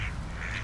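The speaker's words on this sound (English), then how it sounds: ""You can't swim," quacked the duck." A duck gives a couple of brief, nasal quacks, close and clear, in a short burst without speech.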